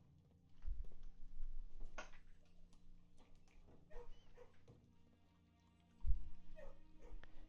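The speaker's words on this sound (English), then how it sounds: "I'm going to pet the dog because I always have to pet the dog." A dog in a kennel in the video game Blue Prince gives a few soft yips and whimpers over a steady faint ticking, with a couple of louder thumps and rustles in between.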